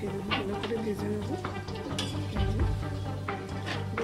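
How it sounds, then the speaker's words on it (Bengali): Cabbage pakoras fry in hot oil with a steady sizzle as they are turned one by one, with utensil scrapes and light clinks over the bubbling. "এবার একে একে আমি এগুলো উল্টে পাল্টে ভালো করে ভেজে নেব।"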